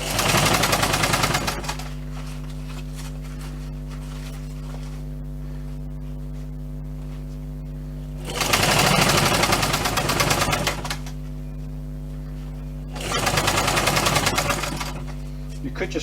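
A sewing machine runs in loud, steady bursts of rapid stitching as it sews a bushcraft water bottle pouch, with two or three runs separated by pauses where a low motor hum carries on.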